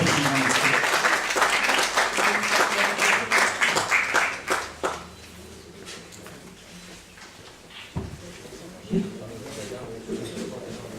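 Audience applause at an anniversary gathering of a society, a dense burst of clapping that swells briefly and then fades to scattered claps after a few seconds, with voices speaking through the quieter stretch.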